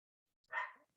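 A single short, faint bark from a small dog, heard alone in otherwise quiet surroundings.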